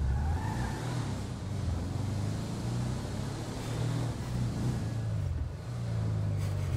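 A car engine in GTA 5 runs steadily and rises in pitch as it accelerates up a climb, a continuous low rumble with no talking.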